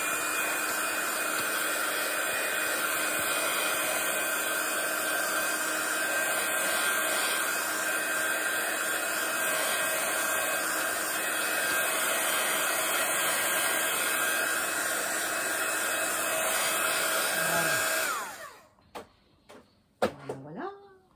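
A hair dryer blows on an art journal page with a loud, steady whir for about eighteen seconds, then cuts off, followed by a few faint handling knocks.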